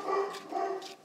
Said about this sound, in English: They love barking at the mailman.